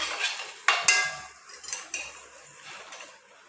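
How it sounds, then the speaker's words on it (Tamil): A metal spoon scrapes and clanks against a pot while mushroom biryani is being stirred, with a few sharp close knocks followed by softer intermittent scraping. "கிண்டிட்டே இரு."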